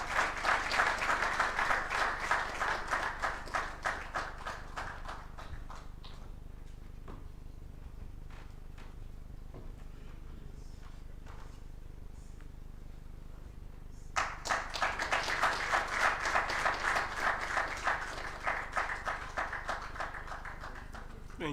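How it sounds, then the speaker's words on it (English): Attendees at an engineering ethics lecture clap in a steady burst of moderate applause that thins to a few scattered claps midway, then swells again into full clapping near the end. "A round of applause for her."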